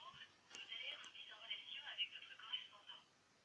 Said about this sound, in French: Le maudit téléphone.